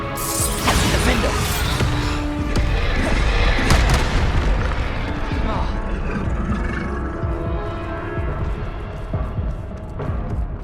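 The Bombarda spell blasts in the Hogwarts Legacy video game as a loud, sustained booming explosion that fills the scene, then slowly settles into a rumbling tail.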